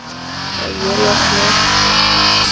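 A Mercedes-Benz engine revs loudly in the mobile racing game Need for Speed No Limits. The pitch climbs steadily and holds at a high, roaring drone with no one talking.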